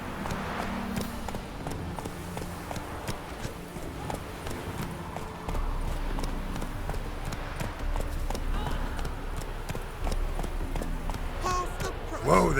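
Roach, Geralt's horse in The Witcher 3, clip-clops along at a walk in a busy Novigrad setting, hoofbeats steady and close throughout, with people talking over them.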